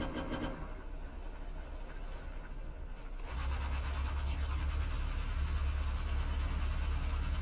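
A vehicle engine in Stormworks starts up partway through, settling into a steady, loud low drone that continues to the end over faint background game sounds.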